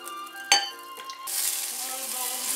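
Margarine melting in a hot pan while vegan bolognese pasta is made, a soft clink near the start, then a steady hiss of sizzling fat that swells and holds close and fairly loud.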